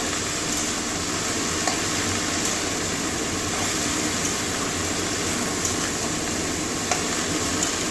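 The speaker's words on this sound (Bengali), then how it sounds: "ভালো করে মিশিয়ে নেবো নুনের সঙ্গে" Cabbage being stirred with salt in a cooking pan makes a steady, dense sizzle and scraping hiss that runs unbroken at a moderate level, with faint clicks from the utensil now and then.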